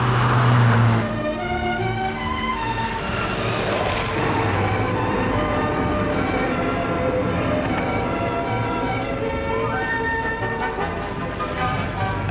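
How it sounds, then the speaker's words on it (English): Rally car engines of the 1965 Monte Carlo Rally roar and echo through a French town in winter conditions, a loud, continuous droning rumble with shifting engine tones throughout. "French town echoes to the throaty roar of the various engines"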